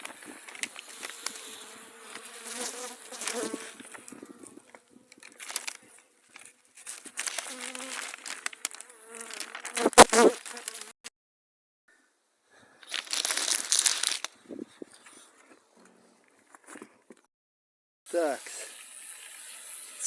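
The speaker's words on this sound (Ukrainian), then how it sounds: "Ну, але бджола така трошки неспокійна." Steady buzzing of many Buckfast honeybees at an open hive, somewhat restless, mixed with crinkling and rustling handling noises, close up, with pauses of near silence and occasional brief voices.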